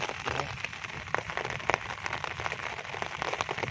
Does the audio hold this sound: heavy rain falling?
yes